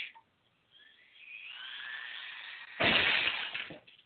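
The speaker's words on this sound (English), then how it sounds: "The glass was shattered." A radio-drama effect of glass shattering. A rising electronic whine builds first, then a loud crash of breaking glass bursts in and fades.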